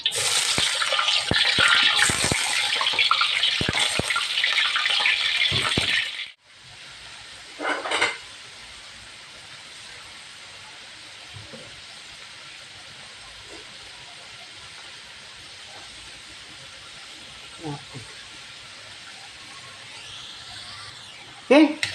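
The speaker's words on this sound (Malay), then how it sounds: "Okey, kita goreng kentang ni." Potatoes fry in a pan for a Malaysian sambal, a loud, dense sizzling hiss for about six seconds that drops to a softer, steady crackle, with brief speech here and there.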